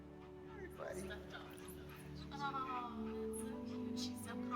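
Puppy whimpering and high yips in the video game That Dragon, Cancer, short thin whines and little yelps over a steady tonal game background, with a voice talking faintly in the mix.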